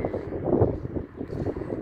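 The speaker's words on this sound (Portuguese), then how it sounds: "Mas hoje deu muito vento, muito vento" Strong wind blowing outdoors after rain, a steady low rumbling roar buffeting the microphone throughout, with gusts swelling and easing.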